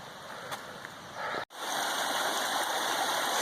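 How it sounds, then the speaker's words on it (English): River water flowing across a hiking trail on the Appalachian Trail makes a steady, close rushing gush that continues throughout, broken only by a brief dropout partway through. "nope, it's a river"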